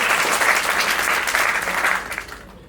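Studio audience at a Marathi talent show applauds loudly and steadily, a dense burst of clapping that fades out near the end.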